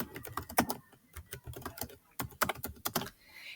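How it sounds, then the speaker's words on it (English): Typing sample text on a computer keyboard, quick irregular bursts of close, crisp key clicks with a short pause midway. "So I am just going to type sample text here."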